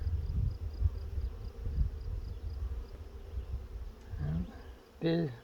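Honeybees in an open hive during a frame inspection make a low, steady droning hum that rises into a brief, louder buzz near the end.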